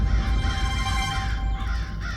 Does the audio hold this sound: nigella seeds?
no